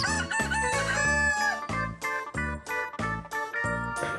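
A rooster crows loudly and close by, followed by a string of short, choppy calls.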